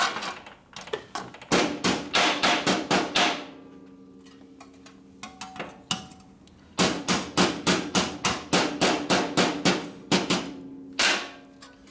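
Sharp, ringing hammer blows strike a metal part from a 1958 Harley-Davidson 74ci panhead engine during a top-end repair, coming in fast rhythmic bursts of about a dozen strikes, then a pause with a few lighter taps, then another steady run, loud and close.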